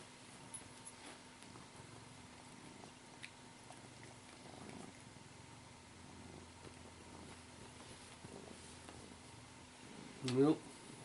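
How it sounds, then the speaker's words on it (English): A cat purring softly and steadily close by, a low continuous rumble through most of the stretch, ending in a brief louder sound. "But for the minute she's purring happily."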